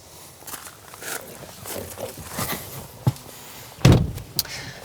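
A frameless car door on a 2020 BMW 2 Series Gran Coupe swings shut with one solid, close thump near the end, after soft shuffling movement and light ambient noise.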